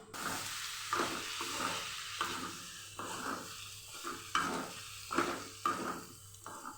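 Potato curry sizzling steadily in a pan as red chilli powder and coriander-cumin powder are stirred in, with a rhythmic scrape of the spoon roughly every second over a constant hiss.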